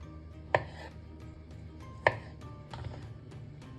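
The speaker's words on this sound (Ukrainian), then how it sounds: "Якщо вона у вас більшого розміру, нарізаєте на 6 частинок." Knife chopping boiled potatoes on a board for a potato and herring salad: two sharp, loud cuts about a second and a half apart, then several lighter taps, with no talking.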